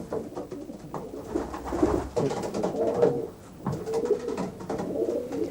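Homing pigeons coo in a low, rolling, continuous chorus with overlapping throaty calls, fairly close and steady throughout.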